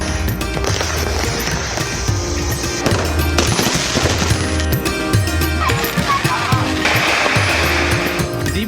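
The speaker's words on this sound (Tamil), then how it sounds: "7 ஆண்டுகளுக்கு பிறகு பட்டாசுகள் வெடித்து மக்கள் உற்சாகமாக தீபாவளியை கொண்டாடினர்" Firecrackers burst in dense, rapid, loud volleys during Diwali celebrations in Delhi, with crackling bangs that continue almost without a break under a noisy background.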